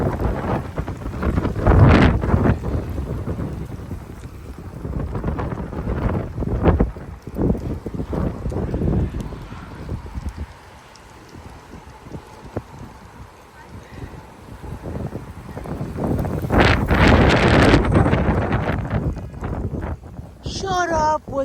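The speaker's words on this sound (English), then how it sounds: "This wind is crazy." Strong 50 mph damaging wind gusts roaring through a live oak and bushes in Frisco, Texas, surging and fading in loud rushing waves with heavy microphone buffeting, while a person talks over it.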